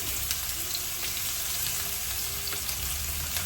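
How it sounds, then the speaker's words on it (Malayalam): Small shallots, garlic and ginger sauté in a pan for rasam, a dense, steady sizzle close up that holds without a break from start to finish. "പിന്നെ നമ്മൾ നന്നായി ഇളക്കി കൊടുക്കുക കേട്ടോ. ഒന്ന് വഴറ്റിയെടുക്കുക."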